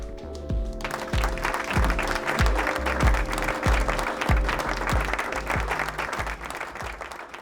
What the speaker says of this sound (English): please give them a round of applause as they start their routine